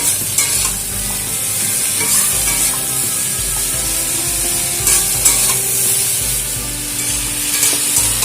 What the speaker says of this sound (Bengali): লবণ আর হলুদ দিয়ে লাউটাকে খুব ভালো করে কষিয়ে নেব।